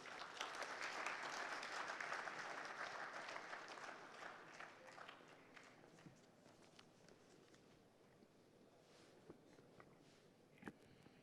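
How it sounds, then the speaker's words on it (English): Applause from the audience at the inaugural Global Inclusive Finance Summit 2023, a dense wash of clapping that is strongest at first, then gradually thins and fades to scattered claps. "Please welcome with a rousing applause."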